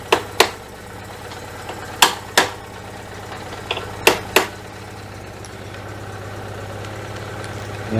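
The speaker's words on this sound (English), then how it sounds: "I'm going to go around with a hammer" A hammer taps the exhaust clamps on a Citroen 2CV in a series of sharp metallic knocks, in pairs and small groups, over the steady low drone of the idling engine.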